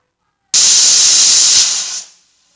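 A pressure cooker cooking toor dal with turmeric lets out a loud, steady burst of whistling steam that runs for about a second and a half, then trails off into a fading hiss.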